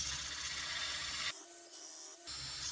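A hand file rasps across the teeth of a handsaw, a steady gritty scraping that runs close and even, breaking off briefly in the middle before resuming.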